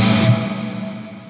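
An electric guitar through a Mooer R7 reverb pedal with distortion gives a brief burst of chord, cut off sharply and trailing into a long reverb tail that fades steadily.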